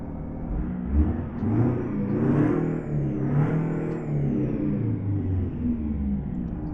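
International 9800 CabOver truck engine in American Truck Simulator, a steady low rumble that swells and revs up and down for several seconds, loud and alone with a faint whine on top.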